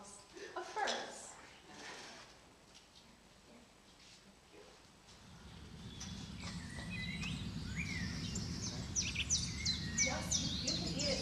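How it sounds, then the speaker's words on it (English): Birds chirp and sing faintly at a distance with a soft insect-like buzz beneath. Quiet talk comes first, and the chirping grows busier over the second half. "that is the songs of birds"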